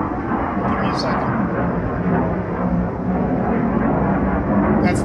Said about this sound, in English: Oh, we got jets flying overhead.